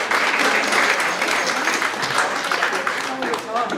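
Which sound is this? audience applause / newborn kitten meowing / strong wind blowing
audience applause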